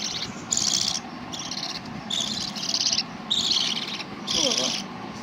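Small pet birds near a child give repeated chirping bursts in short rhythmic phrases, close and clear, over a faint background hum.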